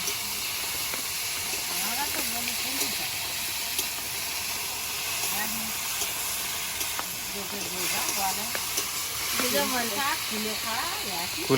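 Kulekhara greens sizzling in hot oil, a continuous loud frying hiss that runs throughout with small crackles, while someone talks over it.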